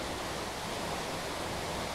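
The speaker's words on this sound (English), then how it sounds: "A beautiful waterfall, but hasn't got anywhere near as much flow as I would have liked today." SummerHill Force waterfall, running with modest flow, makes a steady, even broadband rush of falling water that fills the scene without pause.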